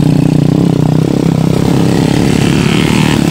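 A hauler motorcycle's engine runs loud and near with a throbbing, buzzing roar whose pitch rises and dips slightly as the throttle is worked.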